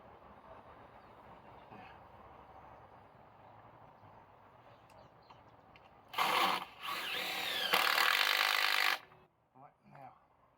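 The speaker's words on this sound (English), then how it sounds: "we can double up on the screws and make it nice and secure" A power drill drives screws into wood while building a chicken house, giving about three seconds of loud whirring in bursts after a stretch of quiet background noise, then a few faint knocks.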